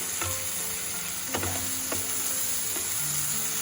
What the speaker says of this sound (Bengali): এবারে একটু নাড়াচাড়া করে নিয়ে আমি এর মধ্যে কাঁচা লঙ্কা বাটাটা দিয়ে দিচ্ছি।